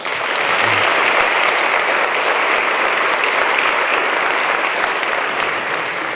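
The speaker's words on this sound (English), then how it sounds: "Give yourselves a round of applause." A room full of people at a motivational speaking event breaks into loud, dense applause that holds steady and unbroken from start to finish.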